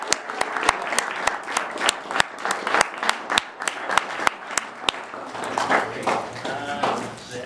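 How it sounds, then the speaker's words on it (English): A group applauds, with steady rhythmic handclaps standing out sharply over a softer crowd clapping for several seconds before fading into chatter and voices. "can give them a round of applause for all their great work today"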